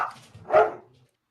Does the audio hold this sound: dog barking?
yes